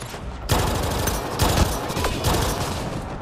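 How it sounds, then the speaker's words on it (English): Rapid bursts of assault rifle fire in Mass Effect Andromeda, loud and close, starting abruptly after half a second and continuing in dense automatic volleys. "this assault rifle that I got from the boss is actually nuts"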